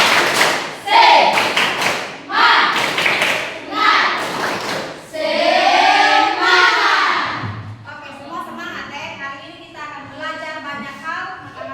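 A classroom of students performs a rhythmic spirit clap, with loud, patterned thumps and claps that come in bursts. Children chant in chorus between and over the claps.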